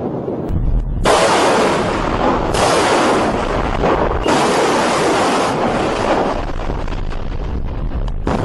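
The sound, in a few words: missiles and cannons firing at ships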